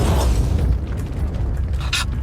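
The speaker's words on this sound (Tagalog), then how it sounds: "Sumabog ito ng malakas at agad na agaw ang atensyon ng lahat." A deep, rumbling boom from a bottle of oil set alight with a lighter in a storeroom, a sustained low roar filling the short moment with no voices.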